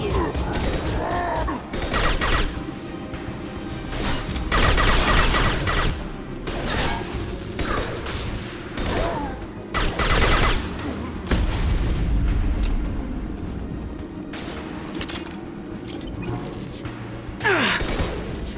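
Rapid bursts of gunfire and heavy impacts from a Mass Effect 2 firefight, loud and dense throughout, with voices shouting combat lines over the shooting.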